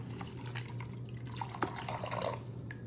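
Water from a small tub of ocean toy animals is poured through a funnel, a steady close trickle with drips and light splashes running through the whole stretch.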